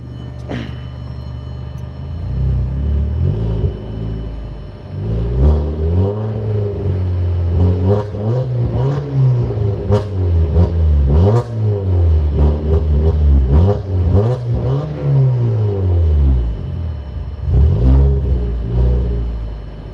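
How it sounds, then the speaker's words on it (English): A car engine revs up repeatedly while its cooling system is flushed. Loud, close rumbling swells rise and fall in pitch across several throttle blips, with a steady idle in between. "We're gonna rev him up."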